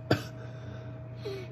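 A single short, sharp cough near the start, close to the listener, followed by quiet room noise and a faint steady hum.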